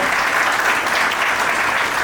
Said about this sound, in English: Please show some energy and give a big round of applause.